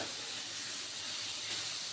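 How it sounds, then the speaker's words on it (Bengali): Eggplant fries in a little oil, giving off a steady, close, bright sizzling hiss with no break. "একটুখানি তেল দিয়ে বেগুনটা ভেজে নেব"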